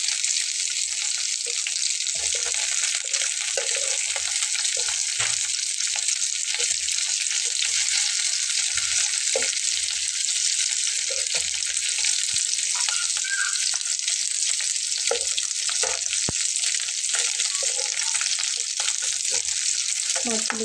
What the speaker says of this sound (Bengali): মাছগুলো কিন্তু ভালো কড়া করে ভাজা হয়েছে এবং আলুগুলো হচ্ছে ভাজা।